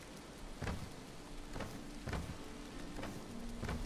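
Rain falls in the video game Valheim, a soft, steady hiss broken by several regular, brief patters or thumps.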